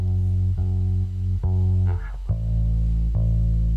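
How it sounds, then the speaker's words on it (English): Electric bass with an electronic sub bass layered underneath, playing sustained low notes with a few changes, loud and steady throughout with no voices. "And then with the sub bass underneath."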